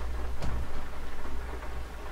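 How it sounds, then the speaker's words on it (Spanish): Steady rain in Euro Truck Simulator 2 falls as a continuous hiss over a low engine rumble from a quiet tanker truck, with a brief louder patter near the start. "hoy nos tocó ruta con lluvia"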